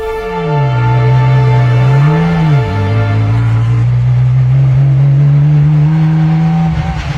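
A small homemade car engine drones loudly and steadily, its pitch dipping briefly then rising and holding, with a buzzing, harmonic-rich whine throughout.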